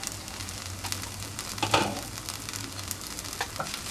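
Okra and onion curry being stirred in a pan over low heat, a soft continuous sizzle with a faint scrape of the spoon swelling briefly midway.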